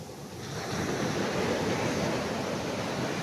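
Ocean waves washing onto a sandy beach in Sorsogon, a broad hiss of surf that swells and holds steady, mixed with wind buffeting the microphone.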